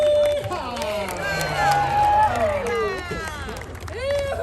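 A parade crowd whoops and cheers for a group of horse riders at an Arizona Gold Rush Days street parade, voices overlapping in a lively burst of shouting and babble.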